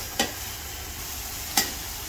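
Ridge gourd and potato go into spices cooked down for a fish curry, with a steady faint sizzle and two short clinks of a stirring spoon spaced well apart.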